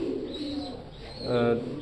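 Pigeons coo softly in a loft of fancy teddy breed birds, a low continuous murmur of calls close by that swells near the end, with a voice faintly mixed in.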